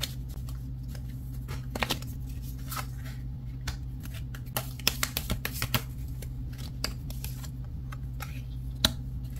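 Oracle cards shuffled during a tarot reading, a steady run of soft papery flicks and taps over a constant low hum, close and fairly quiet.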